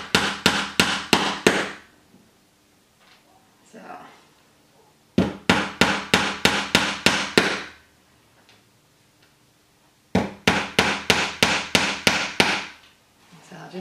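Three bursts of rapid hammering of nails into a board for string art, each about eight sharp, ringing blows in quick succession, separated by pauses with faint movement between.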